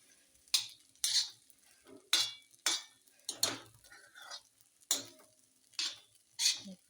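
A spoon scrapes and stirs food in an iron pan in a steady rhythm of about ten strokes, soft sizzling beneath, recorded close and quiet.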